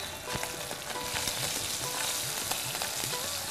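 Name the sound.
ground green pea paste sizzling in a hot pan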